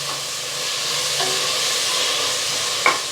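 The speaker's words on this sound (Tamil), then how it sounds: "பிரியாணிக்கு வந்து நல்லா பொன்னிறமாக வதங்கணும் வெங்காயம்" Onions sautéing in a pot for biryani give off a steady close sizzle with soft stirring scrapes, and a sharper clink of a utensil comes near the end.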